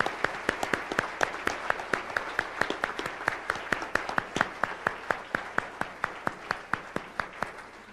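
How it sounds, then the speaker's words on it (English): Audience applause at the 2000 IEEE awards ceremony, with sustained crowd clapping and one nearby clapper's sharp, evenly spaced claps standing out in a steady beat. "Please join me in a round of applause for all of them."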